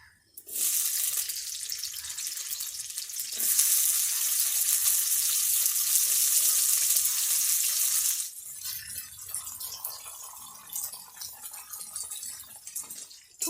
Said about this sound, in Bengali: প্রথমে ফুলকপি ভেজে নেব।